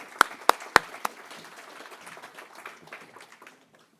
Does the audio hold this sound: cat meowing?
no